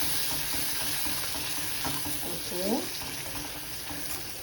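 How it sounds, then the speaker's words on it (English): Tomato puree fries in a pan with a continuous close sizzle and hiss, light stirring scrapes, and a brief spoken word partway through. "Let it just fry for a while longer"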